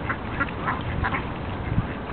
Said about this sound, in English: The ducks are running away from him.